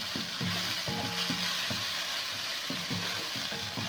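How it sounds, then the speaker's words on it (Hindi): Beef mince (keema) frying in a pan, a continuous loud sizzle with rhythmic stirring strokes scraping through the meat. "इसमें डाल के थोड़ा सा इसको भूनेंगे। ये बीफ का कीमा है।"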